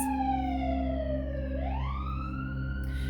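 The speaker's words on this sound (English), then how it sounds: "Let's let that siren pass." A wailing siren sweeps down and then climbs back up, loud and sustained over a low engine rumble, as an emergency vehicle passes close by.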